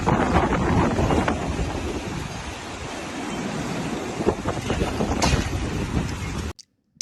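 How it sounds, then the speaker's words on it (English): Wind roars on a rainy, windy afternoon, a continuous broadband rush with gusty swells and microphone buffeting that cuts off abruptly near the end. "Antonio is recording a rainy, windy afternoon"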